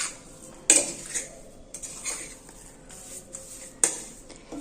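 Magaj, a Gujarati gram-flour sweet mixture, stirred in a pan with a metal spoon, giving soft scraping and a few sharp clinks against the pan's side, close and quiet, with no talking.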